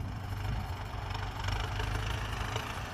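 A Ford 5000 turbo tractor ploughs a rice field, its engine a steady, fairly quiet low chugging drone that holds an even pitch throughout.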